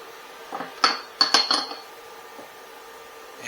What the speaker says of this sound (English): And we just give that a mix.